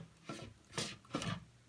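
An acrylic screw-top cup with a rubber O-ring is twisted, giving three short dry scraping rasps in quick succession, close and fairly quiet, with no talking.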